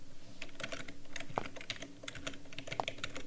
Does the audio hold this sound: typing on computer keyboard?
yes